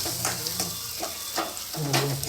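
Crab curry masala sizzles and fries in a pan while being stirred, with a steady close hiss broken by scraping strokes of the spoon at a slow, regular rhythm.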